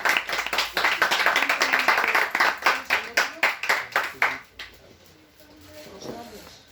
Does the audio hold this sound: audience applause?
yes